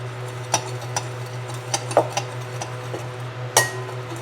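Adobo seasoning spices, turmeric among them, get tossed in a bowl, giving a handful of sharp clinks and taps from utensil against the bowl, spaced irregularly over a low steady hum, close and alone.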